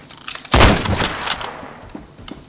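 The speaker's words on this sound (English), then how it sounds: "I know it's got an auto suppressor, but still, you should be able to hear like a little ping" Suppressed SKS semi-automatic rifle fire in the video game Phantom Forces: a loud, sharp report opens the sound, then a dense burst of gunfire rings out and fades, with a couple of fainter pops near the end.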